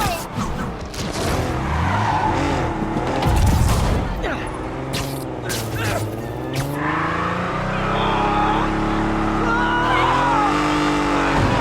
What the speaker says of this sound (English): Yep, that's a high-speed car chase